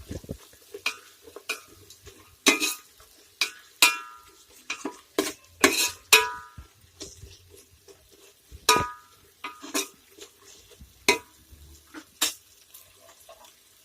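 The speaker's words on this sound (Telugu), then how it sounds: "ఇందులో ఫ్రెష్గా దంచుకున్న అల్లం వెల్లుల్లిపాయ ముక్క వేసుకుందాం. వేసుకుని పచ్చివాసన పోయేంత వరకు ఫ్రై చేసుకోవాలి." Freshly crushed ginger and garlic fry in a pan as a spoon stirs, sharp metallic scrapes and clanks arriving in irregular bursts over a soft sizzle, close and fairly loud, with no talking.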